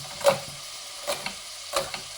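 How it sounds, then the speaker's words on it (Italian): Wild boar goulash with spring onions stewing in a pot, heard as three quiet, evenly spaced stirring scrapes with a soft sizzle between them and no talking. "E lasciamo stufare piano piano."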